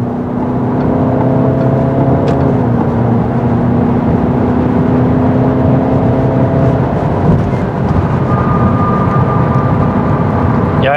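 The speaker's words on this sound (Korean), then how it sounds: "일단 가속 먼저 해보겠습니다." Peugeot 308 GT accelerating from inside the cabin: a continuous engine drone whose pitch climbs, drops briefly at a gear change, then rises again over road and wind noise.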